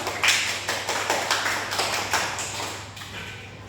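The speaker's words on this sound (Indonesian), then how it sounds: "mari kita beri tepuk tangan dulu" A class of students in a classroom applauds together, a rapid patter of many hands clapping at close range that starts strong and gradually fades over a few seconds, with no talking.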